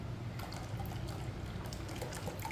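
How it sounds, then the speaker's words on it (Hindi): Cold water pours steadily and quietly into a container while making grape juice, a soft continuous liquid rush with faint splashy detail. "ज़्यादा ठंडा पानी डालना है।"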